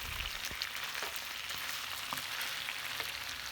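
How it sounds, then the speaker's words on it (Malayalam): Chicken pieces sizzle steadily in a pan of hot oil while a Mughalai chicken dish is cooked at home. A continuous crackling hiss runs throughout, with a few soft clicks and taps from the pan. "ഒരു ഭാഗം ഫ്രൈ ആയാൽ മറിച്ചിട്ട് കൊടുക്കാം കേട്ടോ"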